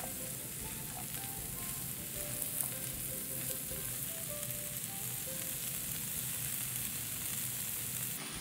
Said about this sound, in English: so it's all coated with the olive oil, and continues to just saute lightly in the pan without browning